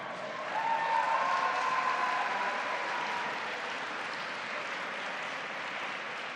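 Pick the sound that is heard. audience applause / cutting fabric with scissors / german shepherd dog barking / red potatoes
audience applause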